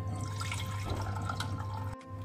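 Milk poured from a container into a bowl of eggs for savory chicken-filled crêpes: a steady liquid stream splashing close by, cutting off abruptly near the end.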